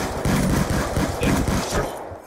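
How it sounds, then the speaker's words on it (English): Rapid automatic gunfire in Call of Duty Black Ops 2 on the Nuketown 2025 map, loud dense bursts rattling close for about two seconds before tailing off. "Oh, stop shooting me, it's totally not fun."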